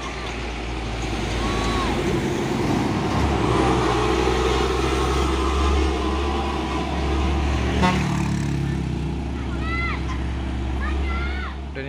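A Hino 500 truck labours up the Bukit Kodok hill road, its engine a steady, loud low rumble throughout, with traffic noise and voices talking over it.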